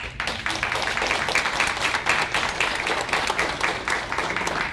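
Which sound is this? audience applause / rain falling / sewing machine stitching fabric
audience applause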